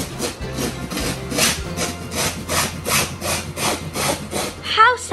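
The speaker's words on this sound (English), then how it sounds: "How satisfying, a sound of a saw." A hand saw cuts through wood with a steady back-and-forth rhythm, about a dozen even rasping strokes, close and loud, ending in a brief scrape.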